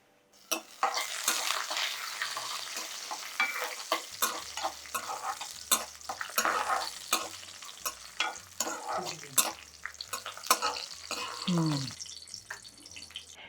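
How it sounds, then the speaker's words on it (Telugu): Raisins sizzle in a pan as they are stirred for bottle gourd halwa, with steady frying hiss, scraping spoon strokes and occasional clinks of cookware; a voice is briefly heard under the kitchen sounds. "ఇప్పుడు కొంచెం మనం కిస్మిస్లు వేసుకుందామండి"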